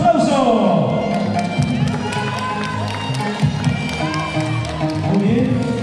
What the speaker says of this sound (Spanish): Y vamos a despedirnos a cada una de ellas con caluroso aplauso.